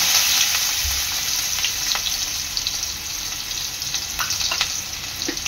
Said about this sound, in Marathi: तेल चांगलं गरम झालेलं आहे। आता मी टाकते तेजपत्ता, बारीक चिरलेला कांदा